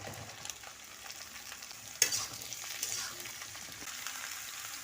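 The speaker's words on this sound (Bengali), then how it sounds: "তেল গরম হয়ে গিয়েছে তেলের উপরে আমি পাঁচ ফোটন দিয়ে দিয়েছি তারপরে আমি এই পেঁয়াজগুলো দিয়ে দেব" Onions and vegetables sizzling in hot oil with panch phoron, a soft steady frying hiss with a sudden louder burst as food drops into the pan, then continued quiet sizzling and stirring.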